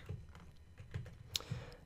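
Computer keyboard keys clack in a short, irregular burst of typing, close and fairly quiet, with one sharper tap standing out.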